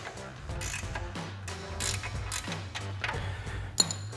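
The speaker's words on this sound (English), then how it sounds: "I'm gonna grab a 21mm ratchet wrench and a 10mm wrench" A 21mm ratchet wrench loosening a drag link nut on a Jeep Wrangler JL, making rapid ratcheting clicks in close, repeated bursts with a sharp metallic clink near the end.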